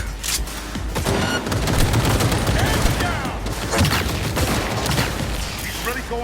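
Rapid, dense gunfire rattles in the video game Cyberpunk 2077, with loud overlapping bursts and booms filling the whole stretch while a voice talks over the shooting.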